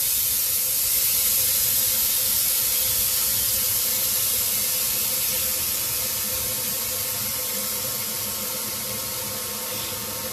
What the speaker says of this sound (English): Release the pressure.